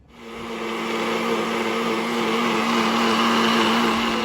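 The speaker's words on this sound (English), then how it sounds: "we're gonna put it in the blender because then we're gonna blend those" A blender whirs through cooked peppers for birria sauce, its motor spinning up quickly into a steady, loud droning hum that holds evenly throughout.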